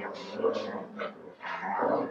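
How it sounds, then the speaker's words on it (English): Dogs scuffling indoors, with a run of short yips, whimpers and barks rising and falling over about two seconds, fairly close and moderately loud. "Sorry, I had to break up a dog fight."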